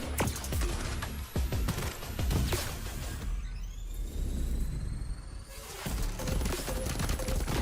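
Video game gunfire sounds off in dense bursts of sharp, loud shots, broken by a short quieter stretch with whooshing effects before the shooting resumes.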